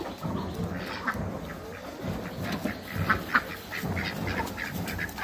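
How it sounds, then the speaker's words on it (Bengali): A group of ducks quacks repeatedly at a farm, with irregular nasal calls rising over a low outdoor background at moderate distance and no voices. "যে আমাদের হাঁসগুলো দেখছেন,"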